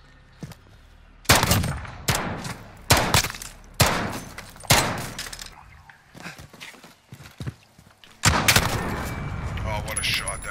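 Gunshots in a 3v3 video game gunfight, a series of loud, sharp cracks spaced about a second apart, then a sustained burst near the end, with people talking excitedly over them.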